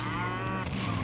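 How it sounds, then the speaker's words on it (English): A cow in a driving video game lets out a single short, loud moo as it is hit, a brief low bellow over engine-like background noise. "there we go, splattered cow."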